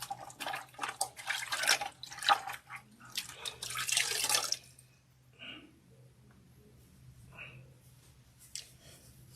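Warm water from a bucket splashes and trickles while facial scrub is rinsed off, a run of close, irregular splashes followed by quieter drips and a few isolated splashes.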